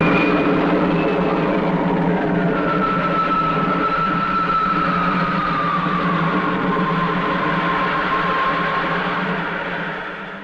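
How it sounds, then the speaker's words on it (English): A spaceship lifting off in an animated science-fiction adventure gives a loud, steady engine roar with a rising, gliding whine threaded through it. The sound holds strong for about ten seconds, then begins to fade. "Ready to lift. Takeoff program starting now."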